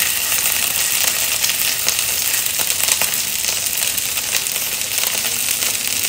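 Food frying in a pan, a loud, dense and continuous sizzle heard up close with occasional scraping crackles, no speech.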